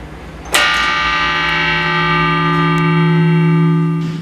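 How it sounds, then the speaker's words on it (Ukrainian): Church bells ring in a tall tower in Transcarpathia, one loud strike opening into a long sustained metallic hum with rich overtones that rings on steadily, close and alone without voices. "Сьогодні дзвони знову сповіщають людей про щось дуже важливе"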